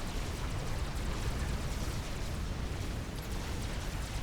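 A nuclear missile detonates in the strategy game Forged Alliance Forever, a dense, loud, sustained roar of explosion and rumbling blast noise that holds at full strength throughout.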